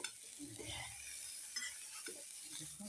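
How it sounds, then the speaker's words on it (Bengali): Food fries in a small wok while being stirred, a faint soft sizzle under repeated scraping and light metallic taps of the spoon, quiet and close throughout. "সুন্দর করে লাল লাল করে ভেজে নিতে হবে।"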